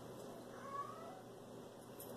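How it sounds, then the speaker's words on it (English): A domestic cat gives a single faint meow midway through, distant and soft over a steady background hum, with no speech. "Cat's meowing."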